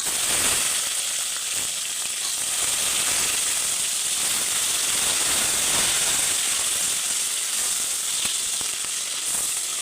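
Curry leaves and potato hit a hot pan while a soya chunk pulao is cooked, giving a loud, continuous hissing sizzle that holds steady throughout, close by and with no talking.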